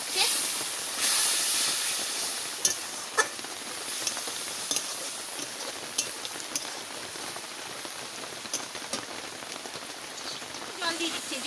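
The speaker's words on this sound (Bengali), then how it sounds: "জল দিয়ে দিচ্ছি, জলটা দিয়ে একটু জাল হতে লাগে।" Water poured into a hot pan of spicy prawn masala sets off a steady, fairly quiet hiss and crackle, with a few sharp spits and pops scattered through it.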